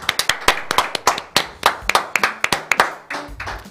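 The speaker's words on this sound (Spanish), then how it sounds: "se preparan nuestras palmas para recibir con un fuerte aplauso a Agustín el Chivo" Studio audience on a Spanish-language talk show clapping in welcome for Agustín "Chivo" Rossi, sharp close hand claps in a brisk, uneven run lasting a few seconds, with no talking over it.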